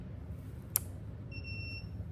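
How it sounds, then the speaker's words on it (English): An e-bike controller on a 3000W AWD Aniioki A8 Pro Max conversion with a 52V battery gives a single faint, short electronic beep as the battery switch is turned on, preceded by a sharp click, in a quiet room. "when I hit this switch, you should hear a beep if I did everything right"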